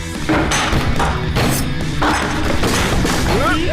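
Loud, repeated crashing thuds and cymbal-like clangs as a drum set is struck and smashed, with a brief voice-like squeal near the end.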